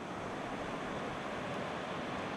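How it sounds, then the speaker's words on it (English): Rushing water from a small waterfall on a Scottish river, heard as a steady, loud broadband roar that fills the whole stretch without a break and without voices. "look how ferocious that mini waterfall is"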